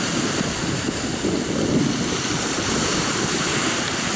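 Sea waves slap against an overloaded boat on open water, a steady, loud rush of surf and splashing water with wind buffeting the microphone and no voices.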